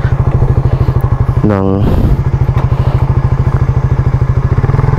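A Suzuki Raider 150 Fi motorcycle idles close by at a motor shop with a fast, even putter and one quick throttle blip, while someone talks over it.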